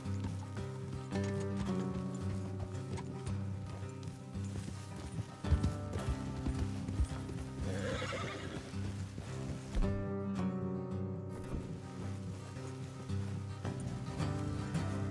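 Horse hooves clip-clop steadily over a backdrop of Red Dead Redemption 2 game music, a continuous trotting rhythm at moderate volume.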